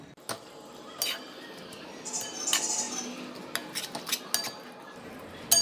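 A spoon mixes poppy seed and onion paste in a cooking vessel, making close, scattered metallic clinks and scrapes in an irregular rhythm, with faint background sounds between.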